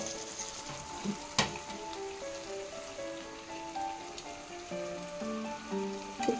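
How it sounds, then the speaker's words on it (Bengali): Fish frying in ground spice paste over a medium-low flame, a steady soft sizzle with crackling pops and an occasional clink of a utensil, close and fairly quiet, no talking. "আবারও কিছুক্ষণ আমি মাছটা ভুনে নেব মিডিয়াম টু লো ফ্লেমে।"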